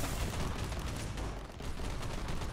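Heavy weapons firing in Warhammer 40k: Inquisitor - Martyr, a continuous thundering barrage of rapid blasts and booms with a dense low rumble, loud and unbroken with no talk.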